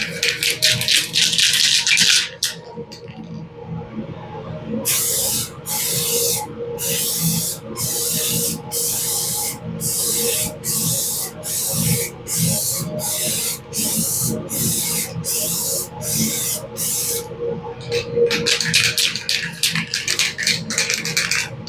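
A spray can lays a light coat of custom paint: long hissing bursts at the start and end surround a run of short, rhythmic spray pulses, close and fairly loud over a low background hum.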